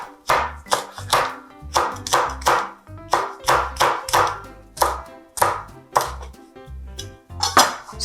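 A knife slices cheongyang chili peppers thinly on a cutting board, producing a steady rhythm of crisp, close taps and knocks against the board, with no talking.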